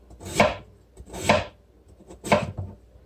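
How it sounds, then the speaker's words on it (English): A knife chops through potatoes on a cutting board in three distinct, evenly spaced strokes, each a crisp close thunk with a brief slicing tail. "you're just going to cut them, not too thin, not too thick, okay?"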